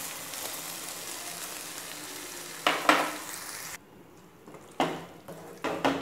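Mutton pieces sizzle and fry in a masala gravy while being stirred, a steady close crackle broken by louder scraping bursts of stirring, with a brief quieter stretch in the middle.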